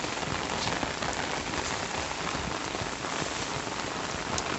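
Heavy rain pours steadily on surfaces nearby, a dense, even hiss of drops with no break and no voices.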